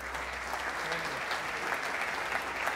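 A conference audience at a Buenos Aires event applauds to welcome a keynote speaker, a full, steady wash of many hands clapping, moderately loud and unbroken throughout.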